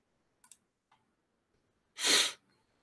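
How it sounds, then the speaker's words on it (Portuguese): A single loud, sharp sneeze bursts out after a couple of faint clicks and a quiet breath, otherwise near silence. "Espirrar assim não."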